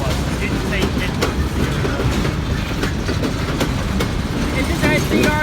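A Norfolk Southern freight train led by EMD locomotives, including an SD40-2, rolling past close by with a loud continuous rumble and rhythmic clickety-clack of wheels over rail joints while people talk.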